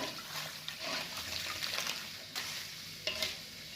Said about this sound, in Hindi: तब तक ऑयल को ऐसे हिलाते रहेंगे, सलांटियों को भी हिलाते रहेंगे